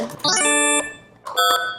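Two bright electronic chimes from a game show buzzer system, each a short tonal tone held under a second, heard close with a brief gap between them.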